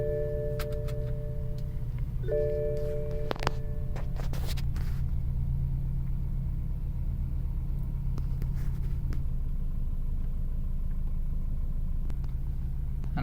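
2013 BMW 320i idling steadily after a brief start, a low, even engine rumble with a few faint clicks early on.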